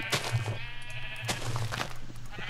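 Sheep in the Minecraft video game bleat several times, with short, nasal, wavering calls that repeat at close range over a faint background hum.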